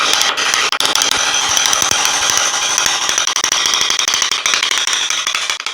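A hammer drives a star nut out of a bicycle steerer tube, giving a dense, loud run of rapid metallic blows that continues without pause, close by and with no talking.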